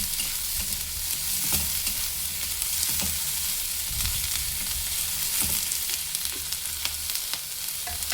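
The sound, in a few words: chopped onion frying in oil on high flame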